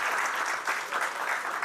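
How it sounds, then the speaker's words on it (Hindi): Audience at a formal Hindi-language ceremony clapping loudly and steadily to welcome guests, a dense continuous burst of applause with no voices over it. "उनका भी हम जोरदार ताली से स्वागत करते हैं।"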